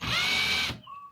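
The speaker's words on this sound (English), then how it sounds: "I've managed to loosen the chuck so I can take out the bit." A cordless drill set in its lowest gear whirs loudly for about three quarters of a second as its chuck spins to loosen and release the bit, then cuts off, leaving a faint short whine.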